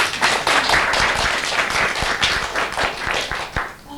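An audience claps at a 50th wedding anniversary celebration, a dense, close burst of applause with sharp individual claps that thins out toward the end.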